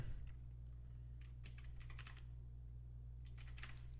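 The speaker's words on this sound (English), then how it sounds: "I'm typing this poll out." Rapid typing on a computer keyboard in bursts of close, crisp keystrokes with pauses between, over a steady low electrical hum and no speech.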